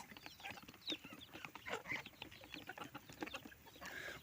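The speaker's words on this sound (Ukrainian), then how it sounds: "курочка, куплена на свинському базарі" Soft, irregular clucking from a hen amid faint farmyard noise, the short calls scattered and quiet.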